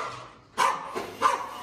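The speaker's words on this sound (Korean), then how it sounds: "짖지 말고." A dog gives two short barks about half a second apart, close by, in an indoor nail shop decorated for Christmas.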